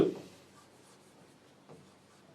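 A sentence being written on a board in a teaching setting: quiet, close scratching and rubbing strokes with a short louder stroke at the start and another brief one near the end, over low room hiss.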